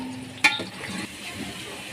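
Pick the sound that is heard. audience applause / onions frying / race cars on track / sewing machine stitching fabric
onions frying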